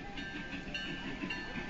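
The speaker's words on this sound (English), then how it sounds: "Driving your train." A small Toby the Tram ride train rumbles along steadily with a faint rhythmic clatter, a continuous moderate running sound with no voices.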